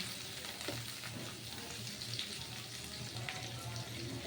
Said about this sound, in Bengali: এখন আমি চিকেনগুলো দিয়ে দিব আর ভালোভাবে নেড়ে চেড়ে দিব।